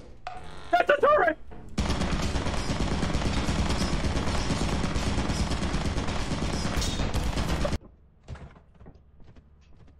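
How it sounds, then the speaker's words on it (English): Sustained rapid gunfire from a turret in the video game Lethal Company, loud and continuous for about six seconds after a brief voice, then cutting off abruptly. "That's a turret!"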